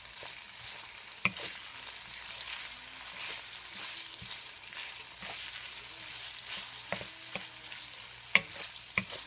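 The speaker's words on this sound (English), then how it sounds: "pick up that garlic in there as we saute the onions and get the meat" Onions, garlic and meat sauté in a hot pan with a steady, hissing sizzle, broken by a few sharp taps and scrapes of a utensil stirring, close and moderately quiet.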